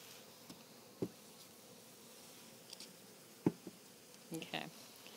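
Honeybees buzzing around a hive during installation of a package of bees outdoors, a steady low hum with a few closer insect passes and soft knocks.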